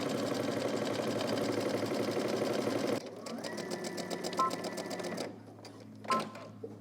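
Sewing machine stitching a seam on a lounge robe, a fast steady mechanical whirr that runs continuously, then slows into shorter bursts with brief pauses and a few faint clicks.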